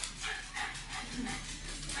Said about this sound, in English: You don't bark at your dad.